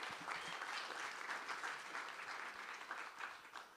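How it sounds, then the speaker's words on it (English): An audience at a university keynote applauds PhD candidates with sustained, even clapping, fairly faint and heard from a distance, with no talking over it. "just a round of applause for our PhD candidates here"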